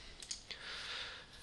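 A few quick, light computer mouse clicks, two or three in close succession, as the cursor is placed in an Excel spreadsheet's formula bar, followed by quiet near-silence.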